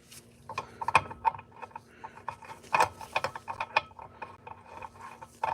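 A steel two-piece in-thread flywheel puller being screwed into the flywheel of a Stihl 461 chainsaw, giving a run of small metallic clicks, ratcheting ticks and rubbing scrapes, close and irregular, with no talk.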